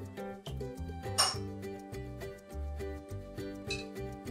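Metal spoon clinking against a pot while skimming fat off cooled homemade turkey stock, several light clinks and scrapes in a steady irregular rhythm, close and moderately loud.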